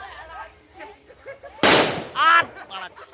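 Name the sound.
firecracker bomb bursting during Kali Puja fireworks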